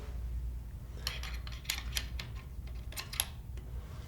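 Faint, close metallic clicks and light scrapes as a washer and stabilizer are slid onto a compound bow's back bar, a handful of small ticks over a quiet background with no talking.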